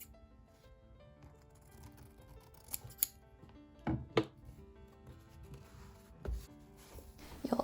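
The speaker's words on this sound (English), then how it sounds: "You'll also need to make 2 cuts at the very edges of the spine of your book." Scissors snip through a handmade journal cover at the spine edges, giving a few short, crisp cuts spaced irregularly over a quiet room background.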